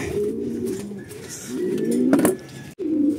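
A racing pigeon coos close by at its loft during a derby race in Candon, Ilocos Sur, with several low throaty coos and soft rustling and no talk over them.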